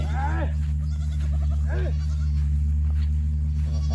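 Two goats bleat, wavering and nasal, close by over a steady low electrical hum with faint background noise, as they are let out to graze in a field.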